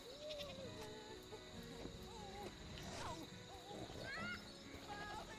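Hooting and bleating birdlike calls from a farm area in the Hannah Montana: The Movie Wii video game, repeated over steady game music and ambience with some clattering effects.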